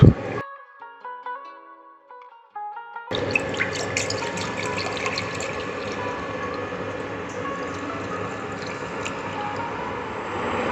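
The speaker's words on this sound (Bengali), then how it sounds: "এর মধ্যে আমি দিয়ে দিচ্ছি 500 দুধ" Milk, 500 ml, poured steadily into a pot for vermicelli payesh, a continuous close splashing gush that starts after a brief electronic beeping tone and runs on evenly to the end.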